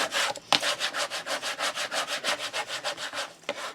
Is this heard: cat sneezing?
no